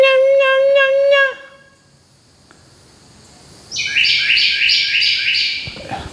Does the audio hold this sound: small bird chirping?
yes